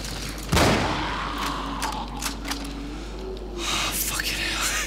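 A single sharp gunshot cracks loudly early on in the video game Cryostasis, followed by eerie ambient game noise and a few faint knocks, with quiet voices murmuring underneath.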